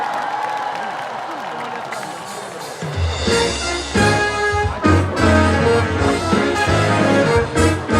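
An outdoor concert audience at a Liberation Day celebration swells into applause and cheering, a crowd of clapping hands and whoops rising loudly partway through and carrying on as a broad, sustained roar of approval.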